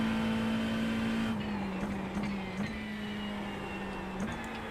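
Sustained, steady car engine drone from a racing video game, with a buzzy tone that dips and rises slightly between gear-like shifts, constant and fairly loud, with no talking.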